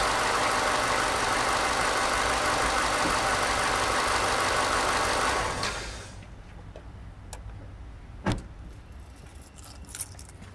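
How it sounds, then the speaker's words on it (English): A steady car engine idles loudly, then cuts off, leaving quiet with a jingle of keys and a couple of faint clicks. "We're going to go ahead and shut off the engine before we even cut those."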